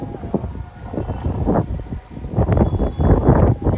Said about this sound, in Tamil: ரொம்ப காற்றடிக்குது.